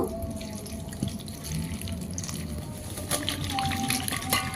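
Cauliflower florets rinsed under running tap water in a kitchen sink, a steady close trickle and splash with occasional drips and clinks throughout.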